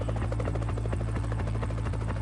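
Italian Coast Guard rescue helicopter flying at night during the Costa Concordia shipwreck rescue; a loud, steady rotor thump pulses continuously and close throughout.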